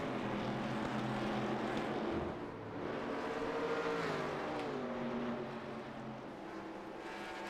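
Vintage race cars braking hard at Watkins Glen, a dense, loud engine roar with downward-sliding pitch as they slow, several machines overlapping steadily.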